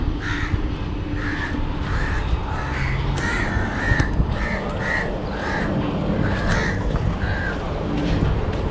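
Crows caw repeatedly in a Mumbai park in Bandra, their calls coming in a steady series of short harsh bursts over a dense bed of outdoor background noise.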